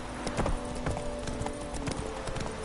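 Hooves of Geralt's horse Roach in The Witcher 3 clop in a quick, even rhythm on firm ground, close and steady throughout.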